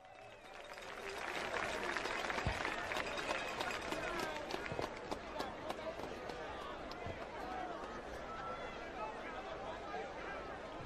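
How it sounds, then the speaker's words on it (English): Applause and cheering from a high school football crowd at a homecoming game, sustained and moderately distant, broad and steady across the stadium with murmuring voices mixed in, rising early then holding level. "let's give that young man a round of applause"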